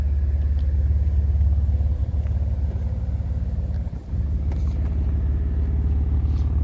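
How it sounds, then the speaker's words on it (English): A 2020 BMW M4 Competition Heritage Edition idles with a deep, continuous exhaust rumble heard up close, steady and loud with a short dip midway. "Those exhausts sound amazing."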